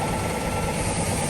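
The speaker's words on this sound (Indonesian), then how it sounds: "ada suara kompresor tuh di sana tuh, suara kompresor sama ada suara mesin bor" An air compressor runs in a motorcycle workshop during a Kawasaki ZX25R service. It makes a steady, unbroken mechanical drone at moderate distance, with no talking.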